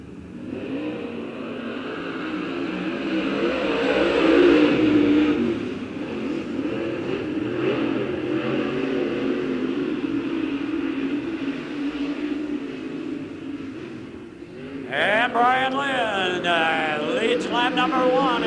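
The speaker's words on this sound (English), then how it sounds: "Racing action." Race cars at Lincoln Speedway, late models and modifieds in heat races, roar past in a continuous engine drone that swells and falls, then a sharper revving pass near the end.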